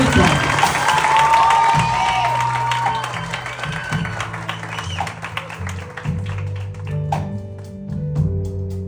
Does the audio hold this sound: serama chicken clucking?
no